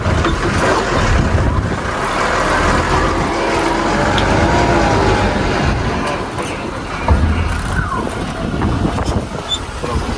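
A lorry reversing on a desert route, a loud close rumble of the heavy engine that holds steady throughout with wind-like noise, and a voice calling out now and then underneath.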